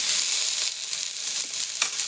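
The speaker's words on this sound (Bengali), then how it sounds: "বেশি ভাজবো না, একটু নেড়ে ছেড়ে আমি জল দিয়ে দেবো।" Potatoes, eggplant and drumstick flowers sizzle in hot oil with a steady, hissy crackle, close and fairly loud, with a couple of brief stirring bursts.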